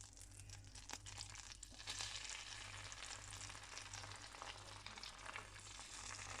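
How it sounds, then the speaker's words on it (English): Trout fillets sizzle and spit in frothy butter and olive oil in a pan, a steady, fairly loud frying hiss with faint crackles and a low hum beneath, no talking. "My butter and oil is getting nice and frothy, so I'm going to pop in my trout fillets skin side down"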